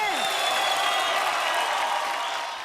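A television comedy studio audience applauds and cheers for Shakti, dense clapping at steady loudness throughout that starts to fade at the end.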